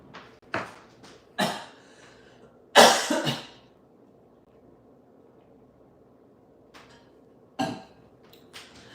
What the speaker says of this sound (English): I did not think the coughing would be starting this early